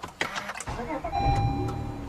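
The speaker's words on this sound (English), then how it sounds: "Put the clutch in and push the button to start the engine." A 2014 Honda Accord Coupe with a 3.5-liter J35 V6 and six-speed manual cranks and catches, then settles into a steady idle, heard from close by inside the car.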